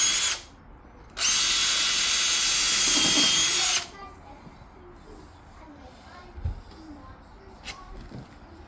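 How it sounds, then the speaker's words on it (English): A power drill pre-drills a door jamb in one loud burst of about two and a half seconds, followed by quiet handling sounds and small knocks. "we're gonna pre-drill this so we don't split our jam"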